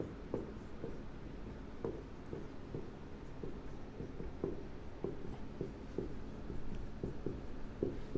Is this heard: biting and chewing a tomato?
no